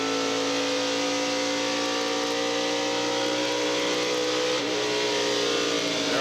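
NASCAR stock cars race at Indianapolis Motor Speedway in the 1994 Brickyard 400, with a steady, loud multi-engine roar and high revving drone that holds through the whole stretch and swells slightly as cars pass near the end.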